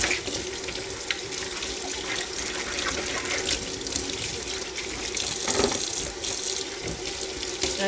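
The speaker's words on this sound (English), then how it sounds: "I love washing bottles." Baby bottles washed under a running kitchen tap, a steady close gush of water splashing into a sink with small clinks and shifts in flow, no talking.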